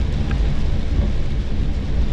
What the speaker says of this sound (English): What we're getting is, oh, rain.